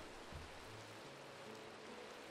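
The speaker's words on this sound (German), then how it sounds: "Ich höre noch das Regengeräusch" Rain in the video game Minecraft falls as a faint, steady hiss of drops, continuous and even throughout with no voices.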